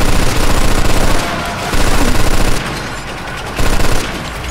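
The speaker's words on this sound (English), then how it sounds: "Shit, we got artillery." Dense bursts of machine-gun fire and heavy artillery from a tank battle in the Mafia II video game, loud and continuous in rapid rattling waves with brief lulls between volleys.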